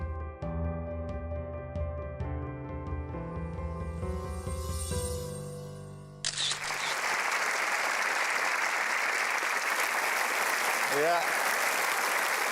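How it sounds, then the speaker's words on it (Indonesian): A musical passage of piano-like notes gives way to loud, sustained audience applause from a large studio crowd on an Indonesian talk show, dense and continuous, with a host's voice briefly heard. "ini saatnya kita berikan aplaus yang meriah untuk Edi Kristianto"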